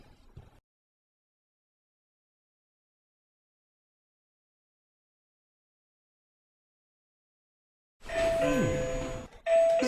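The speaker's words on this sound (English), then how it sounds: "Suddenly, Max realized his doorbell was ringing." A doorbell chimes nearby after a long stretch of silence, its bright ding-dong tones ringing clearly and fading out.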